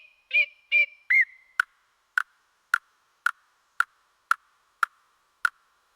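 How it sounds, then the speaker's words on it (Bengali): Lyrebird calling: three short ringing whistles, then a steady run of about nine sharp, evenly spaced clicks, clear and alone against silence. "এটি লায়ারবার্ড, পৃথিবীর অন্যতম বিচিত্র পাখি"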